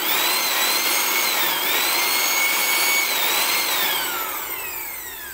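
An electric blower motor runs loud and close, its whine sliding up and down in pitch before easing off slightly at the end.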